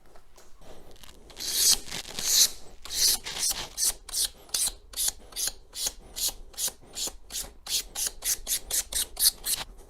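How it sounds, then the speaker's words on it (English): Sandpaper scraping back and forth over a KTM 390 Adventure throttle tube in steady rhythmic strokes, close and fairly loud, speeding up toward the end. "So we need to sand this down or somehow make this smaller."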